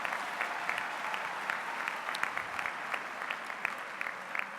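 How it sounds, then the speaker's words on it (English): Steady applause from a graduation ceremony audience, soft and somewhat distant, with scattered sharper claps standing out over the continuous patter for several seconds. "Give yourself a round of applause."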